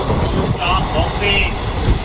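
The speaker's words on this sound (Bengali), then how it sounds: "মালগাড়ি" A goods train passes alongside, heard from aboard the Bhagirathi Express heading to Sealdah, as a loud, steady rumble and rattle of wagons with voices mixed in.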